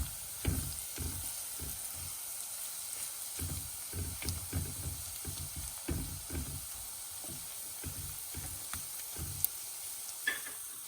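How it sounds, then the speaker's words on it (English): Cumin seeds dropped into a hot pan sizzle with a soft steady hiss, punctuated by repeated low thumps and stirring knocks in an irregular rhythm, close and fairly quiet. "Next, we'll add the cumin seeds."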